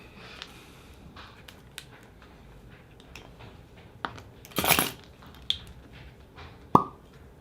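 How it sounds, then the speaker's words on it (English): A cork pulled from a Dogfish Head whiskey bottle with a corkscrew, heard as a few small creaks and squeaks, then one sharp loud pop near the middle, followed by a light clink, all close and quiet. "I'm getting a corkscrew."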